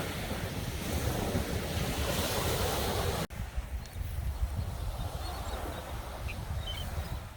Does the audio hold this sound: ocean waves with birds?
yes